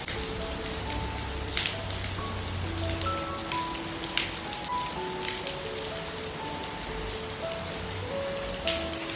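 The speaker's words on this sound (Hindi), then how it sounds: "हवा के साथ काफ़ी तेज़ बारिश अंदर की तरफ आ रही है" Heavy rain driven by wind pours steadily into a home courtyard on an evening, a dense, even hiss with scattered drips and splashes and no voices.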